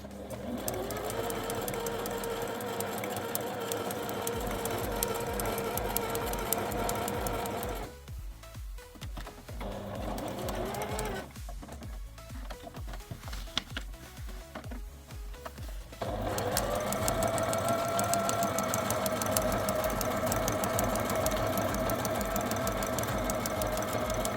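A sewing machine stitching at slow speed while a beginner practises on paper exercise sheets, with a steady mechanical whir that drops off briefly twice and then resumes steadily. No one speaks.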